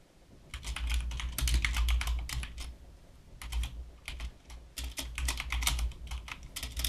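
Notes typed on a computer keyboard during a Zelda randomizer run, with close, steady bursts of rapid key clicks broken by short pauses and a low hum beneath.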